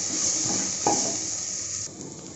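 Garlic and ginger fry in a pan while being stirred for a mutton curry, giving a steady close sizzle with a few soft scraping stirs and no voices.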